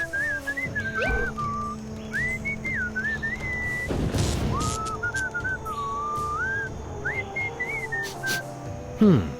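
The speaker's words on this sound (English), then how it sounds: "What is that enchanting whistling sound?" Melodic whistling from the video game Sam & Max Beyond Time and Space rises and falls in short tuneful phrases over a busy game background with rumbling noise, and a loud thump lands midway.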